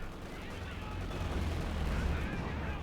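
Gunfire rattles through a Company of Heroes 2 battle between Wehrmacht and Soviet forces with Panther IV and T-54 tanks, a dense, low, continuous volley of shots and rumble that sounds somewhat distant and stays fairly quiet.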